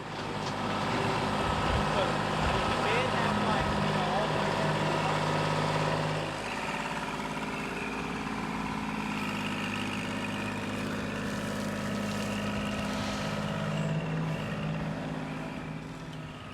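A Kubota L2501 tractor engine runs while septic drain lines are dug and covered, a steady, fairly close drone that shifts slightly in tone partway through and holds for the whole stretch.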